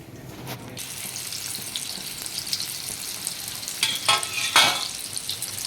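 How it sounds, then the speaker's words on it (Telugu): Bitter gourd pieces fry in oil in a kadai for a curry, giving a steady, close sizzle with a few louder crackling bursts near the end as pieces are added or stirred. "ఇప్పుడు ఈ కాకరకాయలన్నీ ఒక్కొక్కటి వేసుకోవాలి. కొంచెం వేగాలి."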